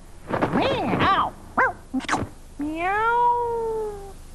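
A voice imitates a cat, giving a series of loud, close meows. Several short wavering cries come first, then one long drawn-out meow.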